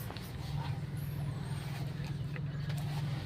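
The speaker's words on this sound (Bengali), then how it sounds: "এই দেখুন গাড়ি আমার পিছনে যাচ্ছে কিন্তু" A Mahindra XUV 300 car backing up in reverse gear, heard from inside as a low, steady engine drone that stays faint and even throughout.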